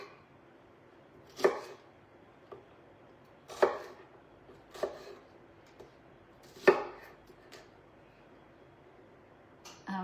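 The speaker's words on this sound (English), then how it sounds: "I'm just going to halve or quarter these shallots." A knife cuts shallots into halves or quarters on a cutting board, giving about six sharp, separate chops at irregular intervals, close and quiet in a calm kitchen.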